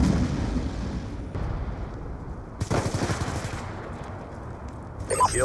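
Peacekeeper submachine gun fire in Black Ops 2 gameplay, with loud rapid bursts of automatic shots cutting in and out over game background noise.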